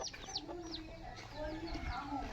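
Chickens cluck faintly in the background, with a low murmur of Tamil-speaking voices and outdoor noise around them.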